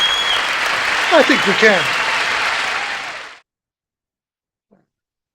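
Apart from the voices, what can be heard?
audience applause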